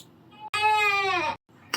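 A newborn baby's voice sampled and played back in beat-making software: a single drawn-out cry-like wail that slides slightly downward, with faint fragments around it.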